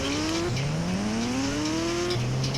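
A Hero Splendor motorcycle engine in a video game hums steadily, its pitch climbing and dropping as it revs up and shifts, with a synthetic, game-like tone and no talking.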